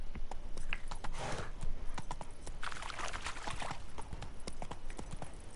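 Steady clip-clop of Roach's hooves in The Witcher 3, the horse trotting continuously close by with rhythmic impacts over low ambient noise, no talk.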